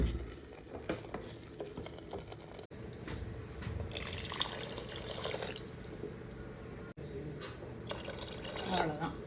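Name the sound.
water poured onto soaked samba rice for biryani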